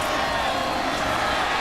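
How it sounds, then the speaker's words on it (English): A stadium crowd roars at a night college football game between Boise State and Hawaii, with a dense, steady wall of cheering throughout that stays loud and unbroken. "You heard the crowd roar"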